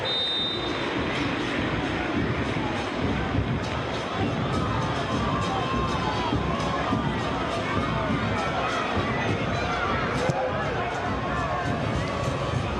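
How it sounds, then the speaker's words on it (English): A stadium crowd at a football match at the Mas Monumental gives an ovation, a dense, continuous roar of cheering and shouting that stays loud and steady throughout while a commentator talks over it. "Cuti and Romero getting the ovation now from the crowd at the Mas Monumental"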